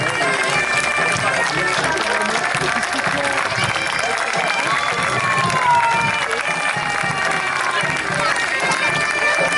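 A large outdoor crowd applauds and cheers through a parade of troupes and extras, steady continuous clapping mixed with shouts and chatter, loud and sustained throughout.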